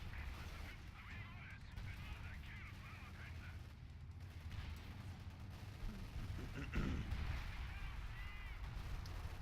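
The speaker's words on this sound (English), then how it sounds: "Watch out for the artillery." Artillery fire in a World War II video game battle for Caen at Colombelles sounds as faint, distant booms amid steady battlefield rumble, with someone speaking over the game.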